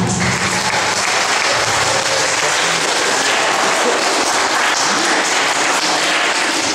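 An audience at a school science day applauds a chemistry student, giving a loud, steady burst of clapping that carries on evenly for several seconds without letting up.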